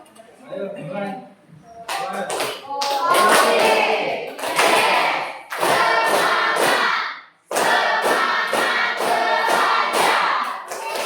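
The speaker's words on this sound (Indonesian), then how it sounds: "Tepuk tangannya." Hands clapping in a classroom as a group of students applauds together, bursts of claps rising and falling loudly with brief pauses, voices mixed in.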